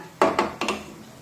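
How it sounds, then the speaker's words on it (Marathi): A lid set down onto a kadhai (wok) of simmering masala in a home kitchen, heard as a few close, sharp metallic clanks in quick succession with no talking. "कढईवर झाकण ठेवूया।"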